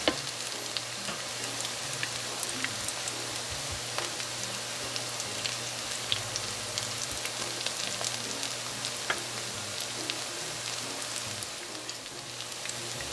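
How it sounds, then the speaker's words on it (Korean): Sweet potato and vegetable fritters fry in a shallow layer of oil, giving a steady, close crackling sizzle with scattered pops that runs unbroken for the whole stretch, with no voices. "아이들도 좋아하는 야채튀김 기름 적게 쓰고 튀겨보세요"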